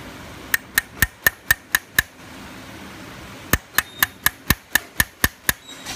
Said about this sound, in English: And here we just walk the chisel along, and we just index off the previous